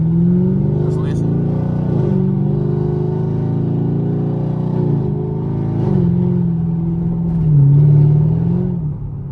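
A sixth-generation Chevrolet Camaro SS V8 revs while driving, its deep engine note rising and falling through several pitch sweeps, with a stronger surge near the end, heard from inside the car.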